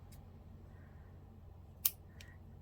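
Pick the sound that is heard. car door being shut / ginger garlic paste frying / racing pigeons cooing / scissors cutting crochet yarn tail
scissors cutting crochet yarn tail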